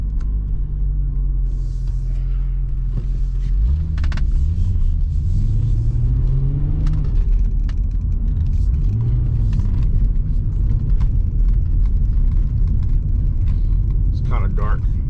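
An Infiniti G35 engine rumbles steadily up close at idle, then revs briefly with rising and falling pitch before settling back to a low drone, while someone talks over it.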